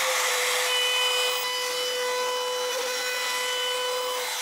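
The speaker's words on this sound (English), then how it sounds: "This router bit has an 1/8-inch radius on it. And I'll go around the inside portion of the sink." A router with an 1/8-inch radius bit trims the inside edge of a Corian solid-surface sink, producing a loud, continuous high whine with a scraping, rasping cut that runs without pause.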